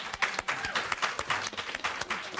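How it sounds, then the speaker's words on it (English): A burst of applause in a legislative hearing room, many hands clapping steadily at moderate distance throughout, with no voices over it. "you may applaud. You may applaud."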